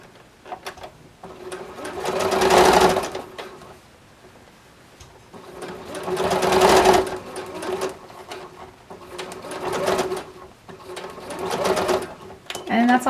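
A sewing machine stitches a 1/4 inch seam around a circular fabric lining, running in three steady whirring bursts with short pauses between them.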